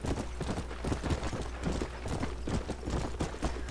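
A horse galloping at full speed in Red Dead Redemption, with rapid, steady hoofbeats pounding close and loud over a low rumble.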